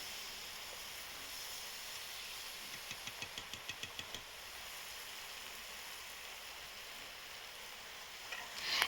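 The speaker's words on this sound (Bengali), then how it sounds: "এই যে আমি আলু আর টমেটোটাকে একটু কষিয়ে নিচ্ছি" Potatoes and tomatoes sauté in a pan with a steady, rushing sizzle. Partway through comes a brief run of quick, rhythmic utensil taps, and no one speaks.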